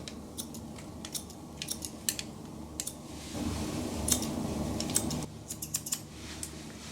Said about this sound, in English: I'm going to use my scissors and just cut this stuff off.